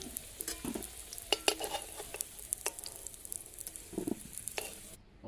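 Potatoes frying in hot oil with a soft sizzle, broken by scattered clinks and scrapes as pieces are lifted out, fairly quiet and close.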